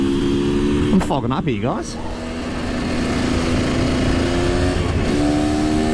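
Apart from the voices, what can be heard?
KTM EXC 250 two-stroke motard motorcycle riding around a corner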